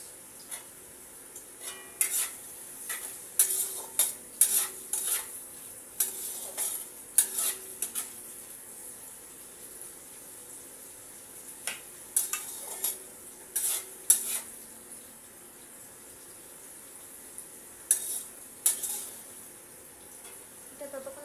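Fried rice with raisins stirred in a pan, a metal spatula scraping and clinking in short bursts over a faint steady sizzle, fairly close, with no talking.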